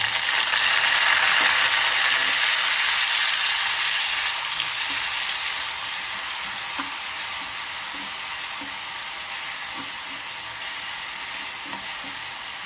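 Finely ground onion paste frying in a pan of oil with fennel seeds and curry leaves for a drumstick coconut-milk curry, a steady loud hiss and sizzle throughout with faint stirring clicks.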